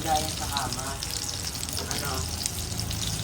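A thin fish fillet frying in a pan gives a steady sizzling crackle that runs close and fairly loud for the whole stretch, with faint pan and stirring noises mixed in.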